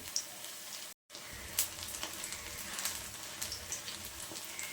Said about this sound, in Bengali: আর গ্যাসের ফ্লেমটা কমিয়ে টিকিয়াগুলো ভাজতে হবে।